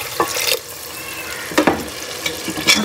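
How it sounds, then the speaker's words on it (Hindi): Water poured into a pan of matar keema that has been browning, a short splashing pour with intermittent bursts of running liquid, close and moderately loud. "अब हम इसके अंदर इतना पानी डालेंगे कि हमारे मटर"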